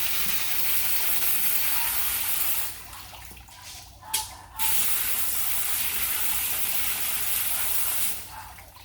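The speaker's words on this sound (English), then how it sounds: "hose them off till they don't have brown coming out" Water from a hose sprays in a loud, steady hiss over aquarium fish filters, breaking off briefly twice before starting again, with no talking.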